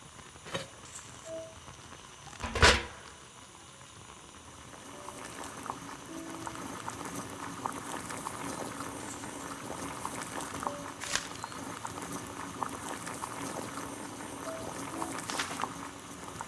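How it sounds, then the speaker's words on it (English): Water heating to a boil in a kettle in the video game Sherlock Holmes: The Devil's Daughter, a steady bubbling hiss that builds after a brief knock and continues alone at moderate level. "Boil water in kettle."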